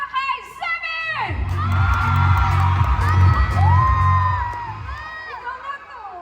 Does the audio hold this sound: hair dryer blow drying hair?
no